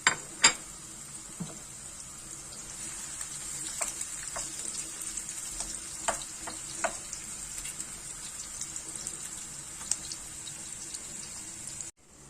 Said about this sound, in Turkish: Soğanlarımızı ve sarımsağımızı ilave ediyoruz hafif yumuşayana kadar pişiriyoruz.